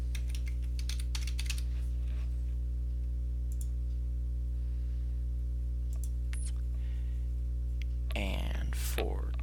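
Typing on a computer keyboard during drawing software work, with irregular clusters of crisp key clicks over a steady electrical hum, and a voice speaking briefly near the end.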